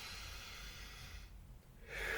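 A slow, deep breath for stress relief: a long airy exhale that fades into near silence, followed by the start of a fresh inhale, quiet and close with no speech.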